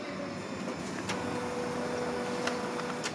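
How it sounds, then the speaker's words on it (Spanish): A Ricoh MP3350 office printer running a test page gives a steady mechanical whir with a few soft clicks, at moderate level and alone. "La impresora ya está funcionando, ahí la escuchan."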